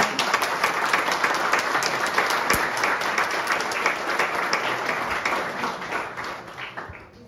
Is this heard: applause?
yes